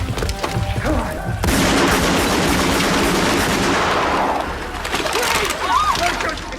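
Sustained gunfire in an action scene from the 1992 film Split Second, loud dense bursts and booms filling most of the stretch, with voices and score beneath.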